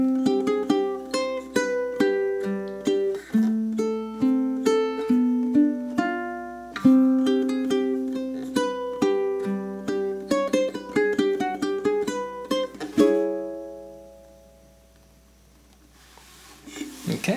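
A solo ukulele plays a Halloween melody at close range, with plucked notes and strummed chords in a steady rhythm. The final chord rings out and fades to near silence.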